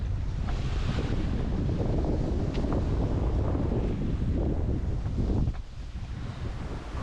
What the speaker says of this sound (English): Always get wind with the showers, but anyway, we're more comfortable now.